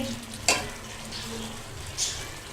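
Chicken liver and gizzard stir-fried with spices in a pan, a steady sizzle with a few sharper scrapes of the spoon stirring the pieces.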